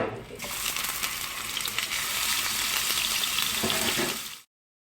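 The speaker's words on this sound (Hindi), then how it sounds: "हमें हल्का सा सब्जियों को सौते करना है, बहुत ज़्यादा हमें इसे कुक नहीं करना" Onions and vegetables sauté gently in a pan with a little oil, a soft, close, continuous sizzle and crackle with light scraping, fairly quiet throughout before cutting off abruptly near the end.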